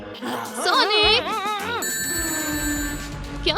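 A phone rings in a Sonic-themed live-action scene during a private romantic dinner, a warbling electronic ringtone that rises and falls in a quick repeating pattern, close and clear, then gives way to a steady high tone over background noise.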